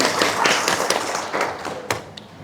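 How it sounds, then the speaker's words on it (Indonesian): Children in a classroom clap their hands, a short burst of fairly soft, uneven claps and taps that thins out and stops after a couple of seconds. "Oke, tepuk tangan."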